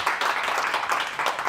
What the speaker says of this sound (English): a big round of applause for our last